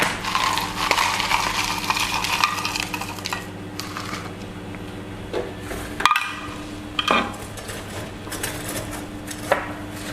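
Ice cubes clatter and clink into a cup of iced coffee with milk syrup and fresh milk, a run of rattling knocks with a few sharper clinks further on, close by over a steady low background hum.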